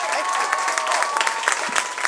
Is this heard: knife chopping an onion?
no